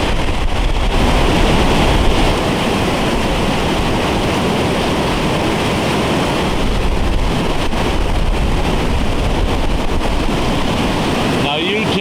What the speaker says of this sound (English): You tell me that's not an awesome waterfall.